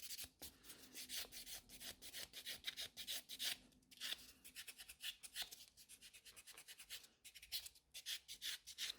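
Quick, fine scratching strokes rasp over a fingernail's nearly cured top coat in a rapid, uneven series, close and faint, with no talking.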